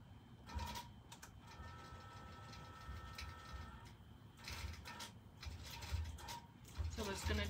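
An embroidery sewing machine stitches a design, giving a quiet mechanical whirring and rapid clicking rhythm with faint rising and falling motor tones, fairly close and low in level.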